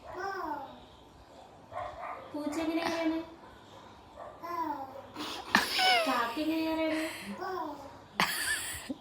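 A small child mimics a dog's bark with a series of short, high, voiced woofs and yelps in separate bursts with brief pauses, close to the microphone.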